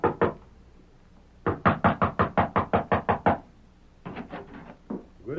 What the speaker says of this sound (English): crossed the porch, and rapped on the door